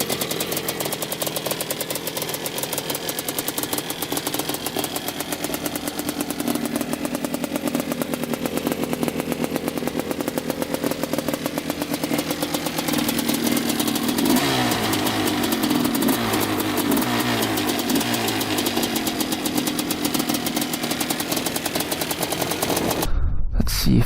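A Quadzilla Banshee 2-stroke quad engine runs with a constant loud, rattly, popping idle that swells into revving throttle blips near the end before cutting off abruptly.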